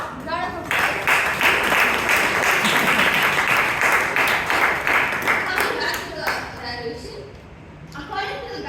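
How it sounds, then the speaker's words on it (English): An audience at a Toastmasters club meeting in Bangalore bursts into dense clapping that carries on for several seconds, then thins out and fades as a voice comes back in over the tail end. "Round of applause."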